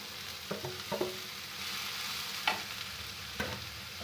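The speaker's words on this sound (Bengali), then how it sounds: "এখানে আমি পেঁয়াজ কুচিয়ে রেখেছি, এটা ভেজে নেব" Chopped onion frying in a pan, a soft steady sizzle with a few brief clinks and scrapes of stirring scattered through, fairly quiet and without speech.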